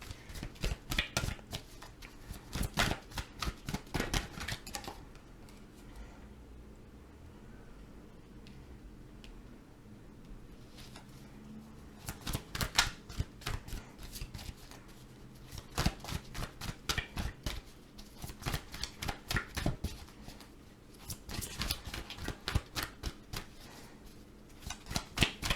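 Tarot cards are shuffled by hand in repeated bursts of rapid riffling flicks and taps, close-up, with quieter pauses between rounds and no talking.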